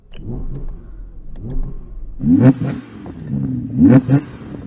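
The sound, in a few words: sports car V10 engine revving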